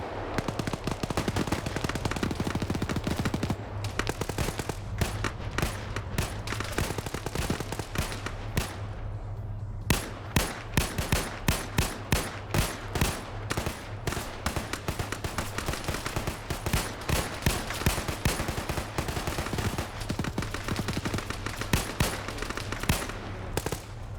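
Automatic machine gun fire in an Arma-style military video game, long rapid bursts of loud close gunshots almost without pause, with a brief lull before the firing resumes.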